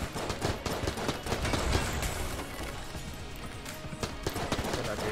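Rapid gunfire from Enter the Gungeon, a dense run of sharp game-weapon shots firing steadily over busy action effects, loud and close throughout with no pauses.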